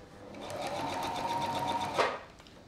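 A sewing machine stitching deckchair fabric runs in a steady whirring, rapid mechanical pulse for about two seconds, then stops with a short clunk, fairly close and without talk.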